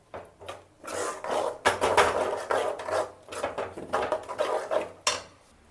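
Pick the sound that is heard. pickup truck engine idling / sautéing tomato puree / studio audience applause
sautéing tomato puree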